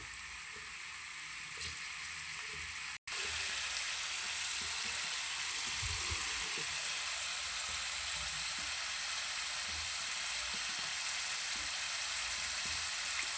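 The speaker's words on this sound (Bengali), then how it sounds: "আলুটা সুন্দরভাবে ভেজে নেব" Unpeeled potatoes fry in a pan as part of a spinach dish, a steady dense sizzle close by that runs on evenly after a brief cut near the start.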